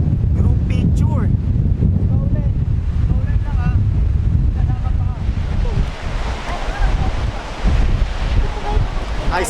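Strong wind buffets the microphone with heavy, continuous low-frequency roar at the far northern tip of the Philippines, while people talk underneath.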